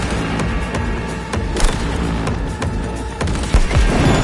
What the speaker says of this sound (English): Take that grenade!